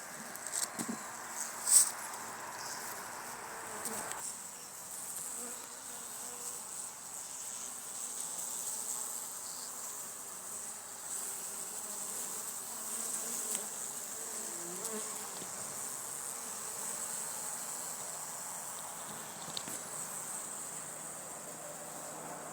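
Honey bees hum and buzz steadily in an open hive box covering about six frames during an oxalic acid dribble treatment, a continuous dense drone with occasional nearby bee passes and light handling taps.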